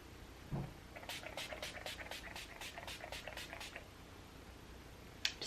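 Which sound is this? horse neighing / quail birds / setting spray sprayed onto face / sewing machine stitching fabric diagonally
setting spray sprayed onto face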